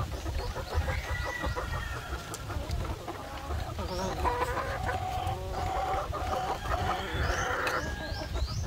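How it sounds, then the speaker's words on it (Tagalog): Brown laying hens on a chicken farm cluck and squawk in a busy, continuous chorus, several birds overlapping close by, with soft human voices murmuring beneath and the odd sharp cackle rising above. "dahil merong mga brown na manok dito"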